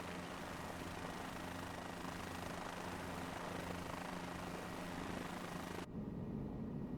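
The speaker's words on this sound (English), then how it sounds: "So actually like flying the helicopter now, it doesn't seem too bad." A helicopter in Microsoft Flight Simulator 2024 on PS5 flies over Boston, giving a steady, loud rotor and engine drone with low pulsing hum, which cuts to a darker, muffled tone near the end.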